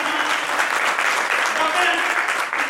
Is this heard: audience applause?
yes